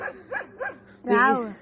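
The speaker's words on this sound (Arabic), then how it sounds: "يعني تعالوا شوفوا في كلب." A dog barks three times in quick succession outdoors during a countryside outing among orange trees, sugarcane and sheep, followed by a longer whining, voice-like cry, with people talking nearby.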